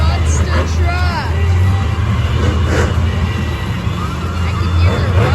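Deep engine rumble from monster trucks at an outdoor monster truck event, a loud continuous low drone under crowd babble and nearby voices.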